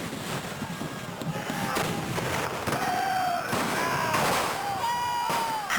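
Cannon fire at a battle reenactment in Colchester, heard as several booming blasts spread across the clip with echoing rumble between them and voices mixed in.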